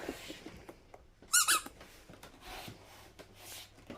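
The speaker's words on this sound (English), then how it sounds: "So I'm going to give him a squeaky ball." A sharp, high squeak sounds twice in quick succession over quiet background noise and faint shuffling.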